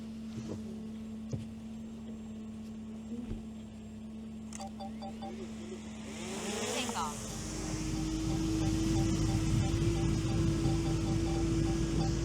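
A car rolls on deflated tires over rough ground, first a quiet steady hum with faint clicks, then a louder, broad rumbling and scraping noise as it moves for the last several seconds.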